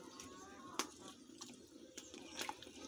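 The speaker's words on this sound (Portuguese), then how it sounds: "vou colocar a água aqui, ó, até cobrir o arroz" Hot water is poured over rice in a pot on a wood-fired stove in a rural kitchen, a faint trickling splash with a few soft clinks and drips, quiet and close, with birds faintly in the background.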